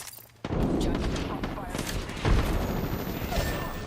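Gunfire in a video game firefight, a dense burst of shots with a loud boom midway, near and continuous under a speaking voice.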